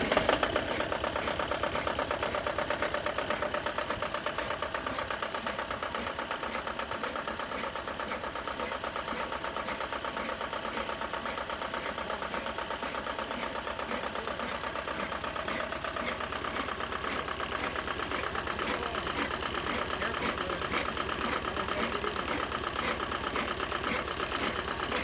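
An RC812 double roller's small glow-plug engine idles steadily after being kicked on, a continuous mid-pitched buzzing drone that holds at an even level throughout without any revving.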